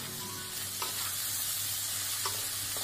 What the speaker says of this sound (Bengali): এরপর একটু নেড়ে চেড়ে নেবো।